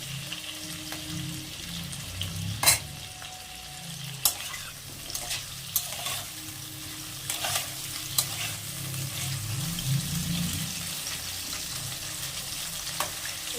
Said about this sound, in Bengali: চলো আলু কটা লাল লাল করে ভেজে নিই।